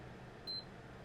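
A PS5 Pro console gives a single short, high beep while its power button is held, clear and brief over a quiet background hum.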